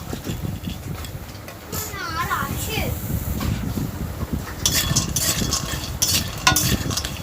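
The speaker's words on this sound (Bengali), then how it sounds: "সর্ষের তেল দিয়ে এই বড়িগুলো হালকাভাবে ভেজে তুলে নেব।" Lentil badis fry gently in mustard oil over low heat, a steady soft sizzle running throughout with scattered clinks of a utensil stirring in the pan and a voice talking over it.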